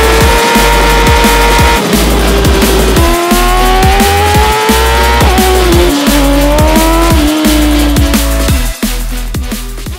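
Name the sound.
BMW M1000RR motorcycle at high speed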